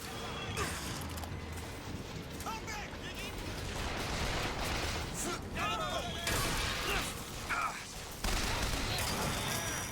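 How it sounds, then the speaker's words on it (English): Bursts of gunfire and crashing impacts in the shooter game BioShock Infinite, sounding as rapid volleys through a busy, loud battle mix, with a voice talking over the action. "who's firing at me?"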